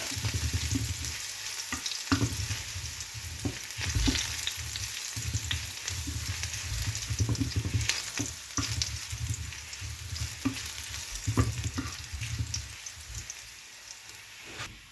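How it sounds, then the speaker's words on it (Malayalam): Crushed garlic frying in hot oil for Kerala beetroot mezhukkupuratti makes a steady, dense sizzle. Occasional scrapes of stirring break through it, close up and continuous for about fifteen seconds, with no voices. "ആ വെളുത്തുള്ളിയുടെ പച്ച മണം ഒന്ന് മാറുന്ന വരെ നമുക്ക് ഈ എണ്ണയിലൊന്ന് ഇളക്കി കൊടുക്കാം"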